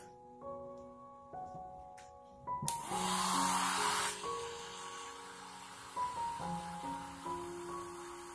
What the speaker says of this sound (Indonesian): Dan kita keringkan lagi dengan hair dryer.